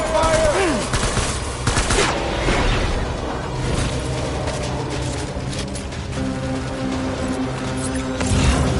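Dense gunfire in Death Stranding during a firefight, a continuous volley of overlapping shots with whooshes and mechanical clatter, loud and sustained across the whole stretch.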